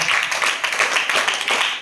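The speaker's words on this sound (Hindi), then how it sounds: "इनके लिए ताली भी बजाएंगे आप." Students in a classroom clap for a classmate, a dense, steady patter of many hands that carries on evenly for a couple of seconds at close range.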